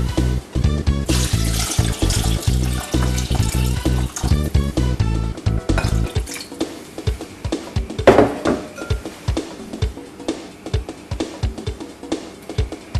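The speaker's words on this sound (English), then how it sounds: "add the water" Water pours into a soup pot already holding roux and mirepoix, a close, steady rushing splash for several seconds, then it stops and gives way to light clinks and stirring knocks.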